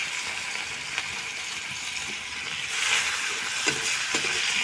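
Chopped onions fry in oil left over from frying fish, giving a steady, loud sizzle that swells briefly partway through, with a few light clinks of stirring.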